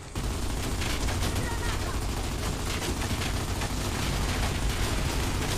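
Loud, unbroken gunfire in a Gears of War Judgment team deathmatch, dense rapid bursts and booming impacts layered together without a pause, with a voice talking underneath.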